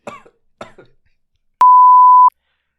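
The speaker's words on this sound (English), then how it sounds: "Sorry, I just swallowed water the wrong way. Yeah. Had a bit of a coughing fit." Two short, close coughs from someone who swallowed water the wrong way, followed by a steady electronic beep lasting under a second.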